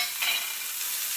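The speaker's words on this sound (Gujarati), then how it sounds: "ડુંગળી અને ગાજર આ બધી જ વસ્તુને નાખી દઈશું।" Onion, carrot and boiled peas drop into a hot pan for a stuffed roti filling, giving a steady bright sizzle with a brief swell at the moment they land, close and alone without talk.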